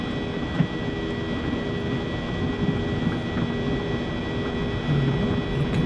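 A regional jet takes off in a flight simulator game, with a steady, loud engine roar and broadband rumble that holds throughout, a few small bumps rising above it and no talk.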